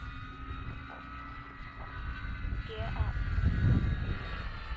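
A Hawker Hurricane model airplane in flight gives a steady droning whine with a constant tone, while a person talks close by over it and the sound swells slightly toward the end.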